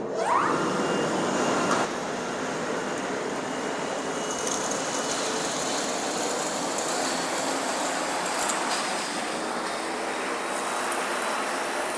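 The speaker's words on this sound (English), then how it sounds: "First step, I open the vacuum cleaner." Industrial explosion-proof vacuum cleaner running steadily, a constant loud broadband motor and airflow roar that holds for the whole stretch after a brief louder start, with no talking.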